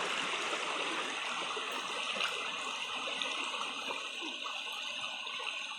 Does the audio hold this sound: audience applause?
no